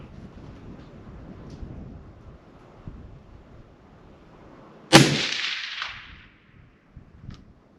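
One sharp rifle shot cracks out about two-thirds of the way through and rolls off in a short echo over a faint windy outdoor background, with no talk.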